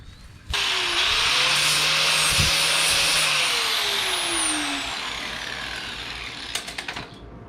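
A loud power tool grinds the edges of a metal trailer hitch outdoors, a sustained close whine that starts abruptly, shifts pitch as it bites, then trails off into a few scraping clicks.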